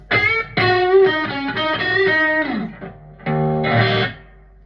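Electric guitar playing a driven, overdriven blues tone through a Positive Grid Spark amp, sustained distorted notes and chords with bends, a brief pause, then a final ringing chord, loud and close.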